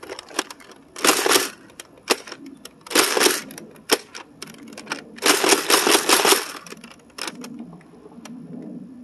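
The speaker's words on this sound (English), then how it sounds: "We're going to fire off 2 and slam fire 3 for each." A Nerf Vortex Pyragon blaster fires and slam-fires discs in several quick bursts of sharp mechanical clacks and whirring, separated by short pauses, close and fairly loud.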